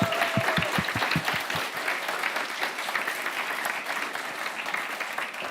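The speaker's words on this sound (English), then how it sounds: "give yourself a big pat and a huge round of applause" Guests at a gala break into a sustained round of applause. A handful of crisp, rhythmic claps lead into a thick, even roar of clapping from the crowd that holds steady throughout.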